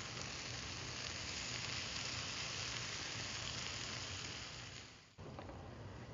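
Zucchini, corn and crema cooking together in a hot pan for taco filling, giving a steady, close broadband sizzle that holds evenly for about five seconds before a brief dip, then carries on.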